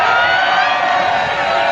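A crowd assembled in Washington cheers and whoops loudly after a Dennis Kucinich speech, a steady, close wall of shouting voices without a break.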